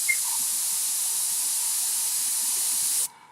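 A can of spray paint hisses steadily onto glass in one continuous, loud burst lasting about three seconds before cutting off abruptly, heard alone without talk.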